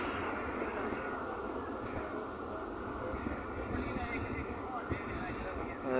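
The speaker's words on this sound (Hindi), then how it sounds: "गोरी एक्सप्रेस से चीचू की मलिया रेलवे स्टेशन से पास थ्रू हो रही है" The Gori Express passes through a railway station without stopping, a continuous rumbling rush of train noise heard steadily from on board or nearby, with wind buffeting throughout.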